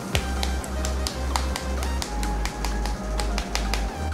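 Fingers tap on the plastic back of a Samsung Galaxy F41 phone, about ten crisp, evenly spaced knocks at a steady rhythm, close and clear.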